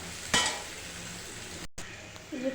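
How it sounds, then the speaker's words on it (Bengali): Chopped onion frying in a pan of oil for a Bengali fish curry, heard as a soft, steady sizzle with a single utensil clink early on as it is stirred. "পেঁয়াজটা এবার ভালো করে ভেজে নেব।"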